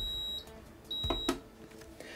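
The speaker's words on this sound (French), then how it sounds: "Voilà, ça bip parce que là, j'ai pas le plateau." Electronic beeps from an Anycubic Wash and Cure Plus resin curing station: two thin high tones, a short one then a longer one, fairly faint, with light handling clicks between them.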